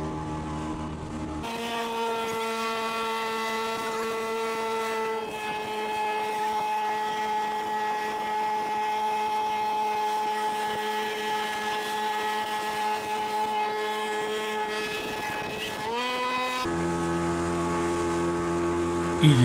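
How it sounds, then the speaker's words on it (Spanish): A motorboat runs steadily on the sea in Parque Tayrona, heading toward Playa Cristal. Its engine holds a loud, continuous harmonic drone that shifts pitch briefly near the end and then settles again. "La brisa, el sonido del mar, las olas que mecen la lancha"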